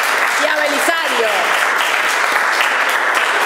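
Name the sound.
audience applause welcoming a speaker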